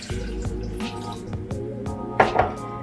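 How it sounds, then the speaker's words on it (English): Water poured into a cooking pan for ginger tea, heard as close, short splashing and dripping with a brief louder gush near the end, and no talk. "So I have a pan here, and I'm going to put about 2 cups of water."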